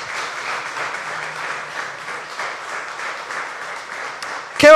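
Congregation applauding at a church service, a steady broad wash of clapping throughout that ends in a sudden loud burst.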